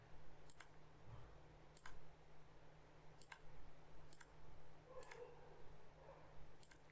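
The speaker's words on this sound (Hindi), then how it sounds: "और क्लिक करते जाए।" Faint computer mouse clicks sound about every second or so while working in Revit Architecture software, six or so single clicks over a quiet low hum, with no speech.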